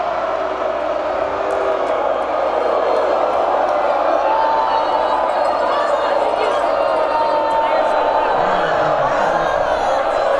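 Crowd noise at a women's college ultimate semifinal between Carleton and Washington, a steady loud murmur with scattered shouts reacting to a foul call, under commentators' talk.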